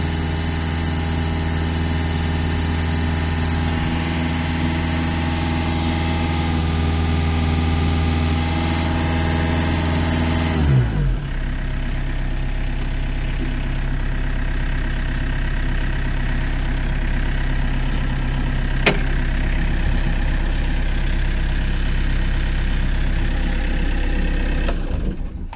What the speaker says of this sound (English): the motor runs nicely, but obviously there's an issue with the hydraulics, running slowly, and there's no power